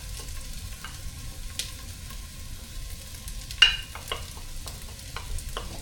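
Onions sizzle softly in a frying pan for a chili, a steady low crackle with a few sharper clinks and scrapes of stirring, fairly quiet throughout.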